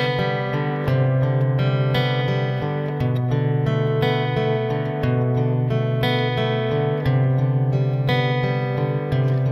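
A 1980s new age music excerpt plays: dense, sustained synthesizer chords with a gently pulsing, repeating pattern, smooth and continuous at a steady level throughout.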